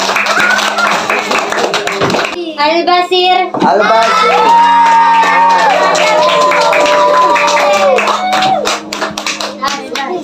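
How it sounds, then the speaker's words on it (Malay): Students in a classroom clapping, a loud, close burst of rapid hand claps mixed with children's chatter and a sung or chanted voice running over it for several seconds. "Okeylah, bagi tepukan."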